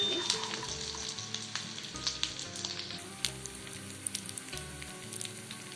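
Fried chicken 65 pieces tossed into a sizzling pan, a soft continuous crackle with scattered popping spits and occasional stirring scrapes, fairly quiet and with no talking.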